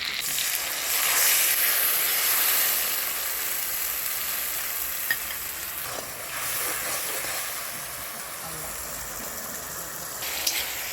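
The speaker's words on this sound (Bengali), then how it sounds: "এখন দিয়ে দেব পেস্ট করে রাখা মশলাটি" Spice paste sizzles and hisses steadily in a hot pan for a bitter gourd and potato dish, a continuous broad frying noise with faint stirring, fairly close and with no talking.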